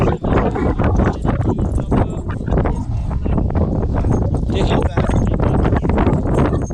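Hooves of Novoalexandrovsk draft stallions clip-clop in a steady, continuous rhythm close by, with wind noise and some outdoor commotion.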